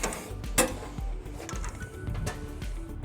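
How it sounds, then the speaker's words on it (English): A socket wrench ratchets on trailer hitch bolts during an installation on a 2011 Ram 1500, making close, uneven clicking and clattering metallic sounds, with no voices. "now we're going to go ahead and tighten and torque all of our bolts according to the manufacturer specifications"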